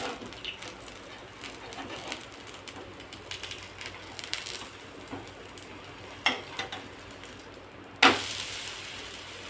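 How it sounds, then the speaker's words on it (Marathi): Cucumber thalipeeth roasting on a pan gives a soft, steady crackle and sizzle, with scattered small scrapes and clicks and one sharper scrape or clatter near the end, and no voices. "तर असं हे खमंग भाजून घेते बघा"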